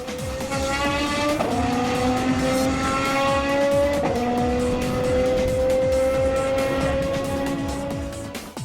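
A Maserati MC12 Corsa with a 6-liter, 755-horsepower V12 revving to 8,000 RPM screams under hard racing acceleration. Its loud, rising engine note breaks at two distinct gear shifts, with faint tire noise beneath.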